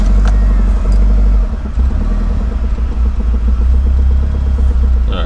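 A car engine with a newly installed clutch master cylinder and fuel pressure regulator runs loud and close in a steady low rumble, surging unevenly as it struggles after a stall in first gear with the clutch in.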